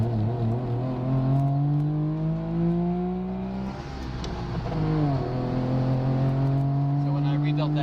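A Saab 95 engine fed by three carburetors idles and revs steadily nearby, its low droning hum shifting pitch as the throttle changes, with a voice talking over it.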